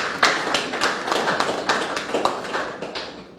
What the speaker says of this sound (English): I think we need to give her a round of applause for that.